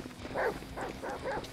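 Dogs in the GTA video game, sent after a player, give four short barks or yelps spaced about evenly apart, moderately loud over a low steady hum.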